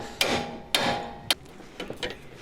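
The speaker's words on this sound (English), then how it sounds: "Hitting it again with a sledgehammer." A sledgehammer strikes the lower control arm of a 2002 Honda Civic to separate the ball joint, giving three sharp, close metallic blows spaced about half a second apart, then softer clanks and rattles.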